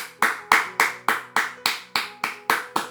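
Steady rhythmic handclapping at a church family service, about three claps per second, loud and close with no voices.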